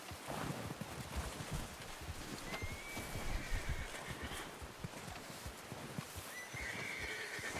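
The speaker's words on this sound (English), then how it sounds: "There's my horse." Horse in the video game Red Dead Redemption 2 whinnying twice over a steady clip-clop of hooves, the neighs clear and close against a busy outdoor background.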